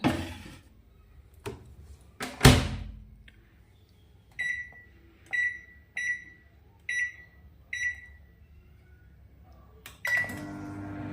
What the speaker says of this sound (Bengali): দাঁড়াও, মাইক্রোওভেনে ঢুকিয়ে দিলাম।